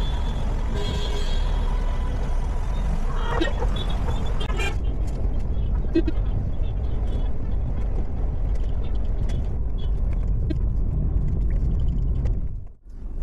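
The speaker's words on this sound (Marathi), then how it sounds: "खूप ट्रॅफिक आहे" Heavy road traffic in Pune heard from inside a car, a low rumbling engine and road drone with a few horn toots early on, steady and close throughout.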